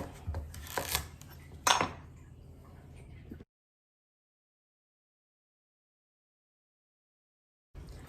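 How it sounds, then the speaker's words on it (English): A knife slicing a Pennsylvania Dutch crookneck squash into rounds on a board, giving a few sharp, close cutting knocks in the first seconds, followed by a long stretch of dead silence. "So the top half, I'm just going to slice into rounds."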